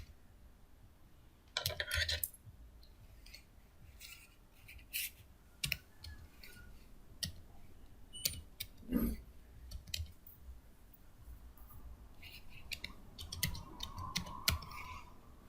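Scattered keystrokes on a computer keyboard while JavaScript code is typed in a Node.js exercise, arriving as irregular clicks and short bursts, fairly quiet and close, with pauses between runs.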